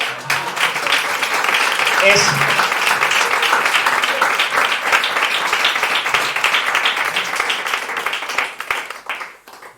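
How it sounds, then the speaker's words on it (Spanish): Audience applause closing a cultural panel in Extremadura, a sustained, loud burst of many people clapping for nearly ten seconds, with a few voices faintly beneath it before it tapers off at the end. "Un aplauso."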